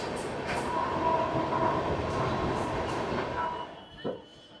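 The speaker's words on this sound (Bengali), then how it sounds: "আমাদের ট্রেন এখন এসে পৌঁছালো হচ্ছে দুর্গাপুর স্টেশনে" A passenger train runs at full speed, heard from onboard as a steady, loud rolling roar. Near the end the roar drops away sharply and a single clank stands out.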